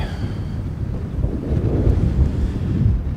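Strong gusty wind buffets the microphone at an airport runway, a loud, continuous low roar that swells and surges without pause.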